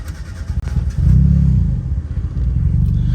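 Turbocharged Mazda Miata engine idling up close after a start, a steady low rumble that swells louder about a second in and holds through a warm-up, with no talking.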